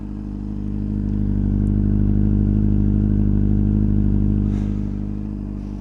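A Honda 600RR4 motorcycle engine with a Yoshimura exhaust idles steadily nearby, a low, even rumble with a faint mechanical clatter throughout.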